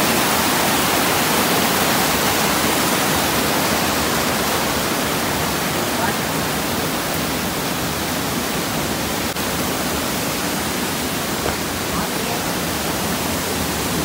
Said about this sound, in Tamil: இதுதான் செகண்ட் ஃபால்ஸ் ஆமாம்.